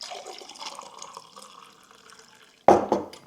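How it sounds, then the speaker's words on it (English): Fresh homemade juice is poured into a cup in a short, sudden splash near the end, loud and close, after a quiet stretch of faint room noise. "I need to get better at pouring stuff."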